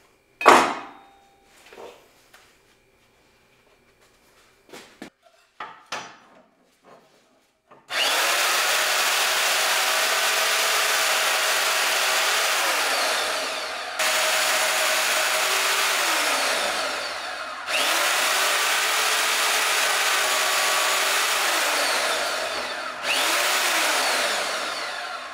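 Steel C gussets from Barnes for a Dana 30 truss being cut out with a power tool: after a few short knocks, a loud, steady grinding whine runs in long stretches with brief pauses between passes.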